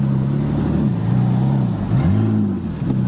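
A Porsche 997 MKII Carrera fitted with a SCART exhaust revs outside, its deep, loud engine note rising and falling through several throttle blips over steady low rumble, with no voices.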